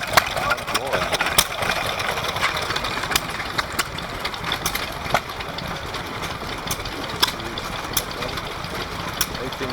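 Vintage stationary engine running at the Welland steam rally, a steady mid-pitched chugging with sharp periodic clicks and knocks over an outdoor crowd murmur, with people talking nearby.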